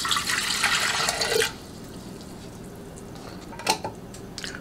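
Water from a measuring cup pours into a bread machine pan in a brief steady splash, followed by quiet and a few faint drips and clinks.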